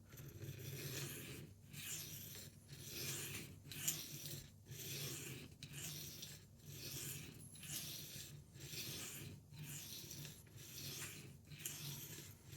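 A kitchen knife is stroked across a sharpening stone in a steady rhythm of about a dozen evenly spaced rasping passes, close up and moderately quiet, with no talking.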